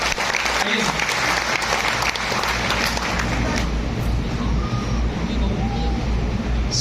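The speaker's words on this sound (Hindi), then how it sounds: "तो एक बार जोरदार तालियां प्लीज।" A seminar audience gives loud, sustained applause, a dense wash of clapping that fills the hall for about seven seconds at a constant level, with faint voices mixed in.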